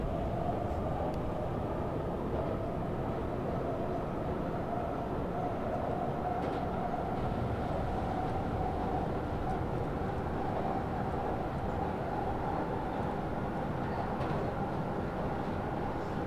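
A Jubilee Line train, 1999 stock, runs steadily in the Open BVE train simulator, its rumble and wheel noise holding at an even level with no break throughout.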